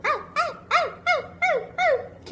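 A person imitates a dog barking during a playful dog game with a child, six rhythmic, evenly spaced woofs close to the listener with short pauses between them.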